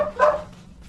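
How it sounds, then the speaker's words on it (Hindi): A dog barks once, fairly close and loud, at night near an old haveli, followed by quiet background. "वो देखो कुत्ते शायद से हमारे होने की वजह से भौंक रहे हैं।"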